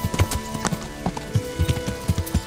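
A horse ridden through countryside in Kingdom Come: Deliverance, its hooves clip-clopping in a steady, close rhythm of sharp hits with nobody talking.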